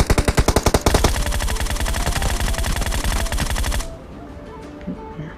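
Groza rifle fire in PUBG Mobile, a fast, evenly spaced automatic burst of loud, punchy shots that runs for about four seconds, then cuts off into quiet game ambience.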